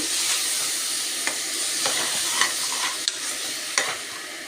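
Masala and water being stirred into maveenakai gojju in a sizzling pan, with a constant frying hiss and a few distinct scraping strokes of the spoon spaced through the clip, fairly loud and without any voices.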